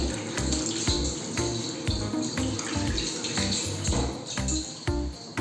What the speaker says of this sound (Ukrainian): Намочіть руки водою.